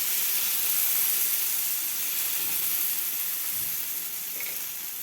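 Ragi onion dosa batter spread on a hot tawa with a spoon of oil, giving a loud, steady, close sizzling hiss that holds evenly throughout with no voices.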